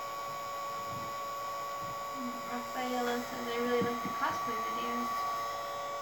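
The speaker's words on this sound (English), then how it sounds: "the air from the heat gun will cause them to roll away" A heat gun blows hot air while Nightwing cosplay escrima sticks are worked on, a steady faint hiss and hum with a pitched whine, while someone talks briefly over it partway through.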